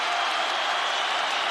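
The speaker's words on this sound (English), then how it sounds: "Crowd goes bananas as McGregor gets upright" A large arena crowd at a Khabib versus McGregor fight roars steadily and loudly, a dense wall of cheering without pause.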